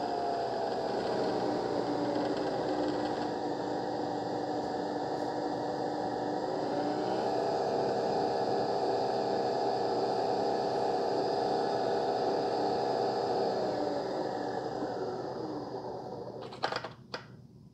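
A Nespresso Vertuo machine brews a Starbucks dark roast espresso capsule with a steady, loud mechanical whirring hum and pump drone that holds for about fifteen seconds, then winds down and ends with a couple of faint clicks.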